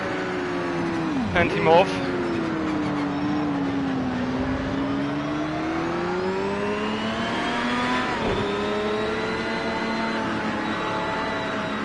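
Race car engines in Project Cars 2 whine and shift through gears as a Mustang tries to overtake, with strong revving and pitch sweeps under steady commentary.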